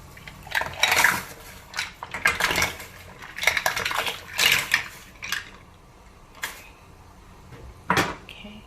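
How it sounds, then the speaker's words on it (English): Mussels are tipped into a pot of boiling water in a home kitchen. Their shells clatter and clink against the metal in several loud bursts, then fall into sparser single knocks. "Now let's put in the mussels inside the boiling water."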